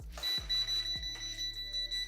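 A Klein Tools non-contact voltage tester held near a live camera battery charger gives rapid, repeated high-pitched beeps in a steady pulsing rhythm, close and clear, with soft handling thumps underneath.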